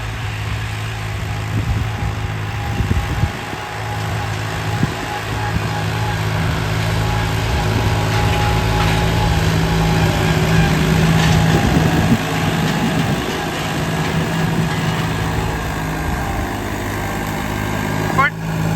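Massey Ferguson 254 tractor pulling a disc harrow through a field, its engine droning steadily and loudly at close range throughout, with a constant low hum and rough mechanical rattle.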